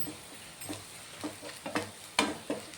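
Chili powder, turmeric and garam masala being sautéed in a pan for a snack, heard as quiet frying with a few spaced stirring scrapes and taps, alone without talk.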